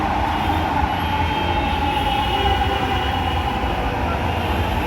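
Continuous rumbling roar of a metro train rolling past with a steady mechanical hum, loud and unbroken for several seconds.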